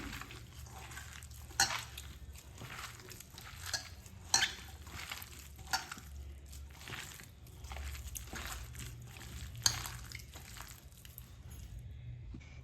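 Mashed potato being mixed by hand with coarsely pounded spices for drumstick (sehjan) aloo paratha filling, giving soft repeated squishing and stirring sounds with occasional sharper clicks against the bowl, close and steady, no talking.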